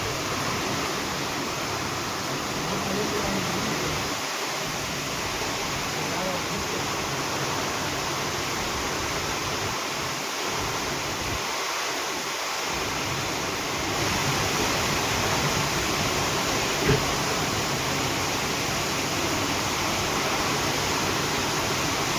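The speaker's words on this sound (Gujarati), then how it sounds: "અતિ ભારે પવન સાથે વરસાદ" Heavy rain driven by strong wind pours down steadily as a dense, continuous roar, with a few brief low gusty thumps partway through and no talking.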